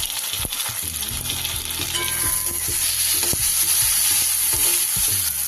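A chopped tomato hits hot ginger-garlic masala in a pan for a Bengali loitya fish curry, setting off a steady loud sizzle with clattering spatula stirs and scrapes throughout.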